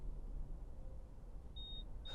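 The parking sensor on a JAC iEV7s electric car gives a couple of short, thin electronic beeps, one sustained and another just starting, over a quiet low hum.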